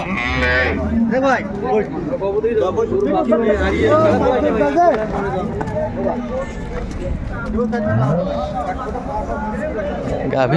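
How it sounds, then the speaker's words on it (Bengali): Dairy cows at a cattle market in Jessore low out in several long moos, near and loud, amid a steady babble of people talking and farmyard bustle. "গাভী"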